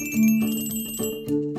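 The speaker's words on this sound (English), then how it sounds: "Let's play with the colorful Christmas bells." Colourful toy Christmas bells in a children's cartoon ring in bright, tinkling bursts, with a few quick strikes close and clear and nothing else beneath them.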